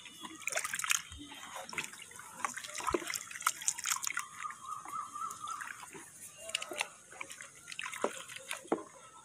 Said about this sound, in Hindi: स्क्रब करने के बाद मैं पैर को फिर से अच्छी तरह से धो लेती हूँ।